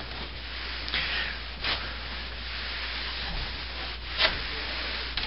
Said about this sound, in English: just gonna go through with the towel, just make it smooth